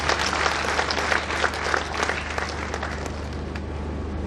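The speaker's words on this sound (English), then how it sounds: "Please let's clap for me." Audience applause at an economic and security summit in Enugu, a dense round of clapping that is steady at first and gradually thins out over a few seconds.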